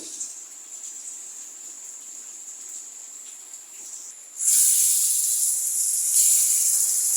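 A steady high sizzle of pangasius fish frying in a pan, suddenly swelling louder and harsher partway through, then holding, with no voices.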